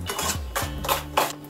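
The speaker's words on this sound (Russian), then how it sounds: "Сейчас вот этот творожок, где комочки еще остались, их так немножко разомну ложкой." A spoon mashes lumps of cottage cheese in a bowl, giving a few soft scraping, clinking strokes at close range with no talk.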